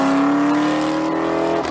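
Ford Mustang SN95 V8 engine holds a loud, steady, close harmonic drone for under two seconds, then dips slightly at the end.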